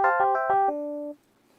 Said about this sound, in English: Rhodes is a famous kind of electric piano.